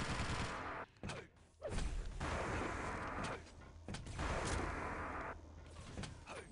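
Railgun fire in a 2x2 arena shooter match, heard as a few loud, sustained blasts broken by short gaps, the bursts coming again and again against steady game noise.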